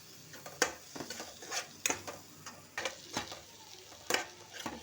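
A spoon scrapes and stirs tomato masala with chilli and turmeric powder in a frying pan, sharp clacks of metal on metal sounding roughly every half second over a soft, low sizzle.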